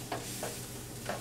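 Gravy for smothered pork chops stirred in a hot pan, a soft scrape of the spoon over a steady sizzle, with a few brief strokes in a short close burst.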